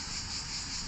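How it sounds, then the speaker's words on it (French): Cicadas singing in summer, a steady, dense high-pitched buzzing drone that holds evenly throughout without breaks, fairly loud and close, with no talk over it. "les cigales continuent de chanter"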